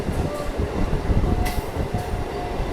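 A train on the Krishnanagar to Amghata route rolls along the tracks with a steady rumble and scattered wheel clicks, with no voices.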